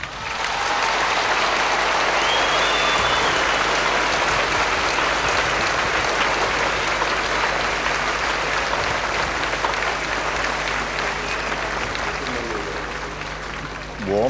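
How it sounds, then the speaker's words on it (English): Warm, sustained applause from a large crowd greeting Princess Diana in 1983, a dense steady roar of clapping that holds for many seconds and fades slightly toward the end. "Warm and sustained applause."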